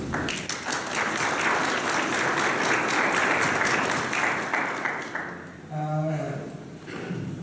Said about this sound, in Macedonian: би сакала да го поздравиме со аплауз